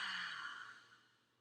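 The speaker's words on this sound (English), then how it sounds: "Nice deep exhale." A slow, deep exhale during a guided breathing exercise, a soft breathy rush that fades gradually over about a second, close and quiet.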